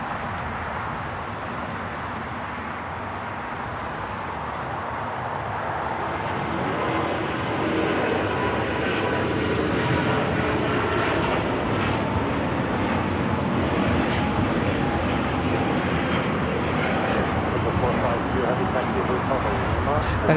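A China Airlines Airbus A350-900 takes off from LAX bound for Taipei, a broad engine roar building gradually and then holding loud and steady.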